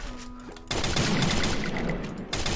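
Gunfire in the Free Fire battle royale game: a quiet lead-in, then a dense, loud burst of rapid shots lasting about two seconds, a brief dip, and the firing resuming.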